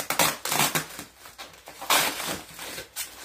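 Layers of wrapping paper are torn and crumpled off a packaged clock, close-up bursts of crackling and ripping in irregular handfuls with short pauses between.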